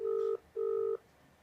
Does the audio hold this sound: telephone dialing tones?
yes